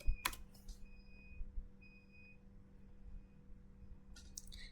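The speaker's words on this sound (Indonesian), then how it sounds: "di command prompt kita ketikkan perintah ipconfig/all" Keys clack on a computer keyboard as a command is typed, a few quiet, brief taps over a low electrical hum, with faint beeps in the background.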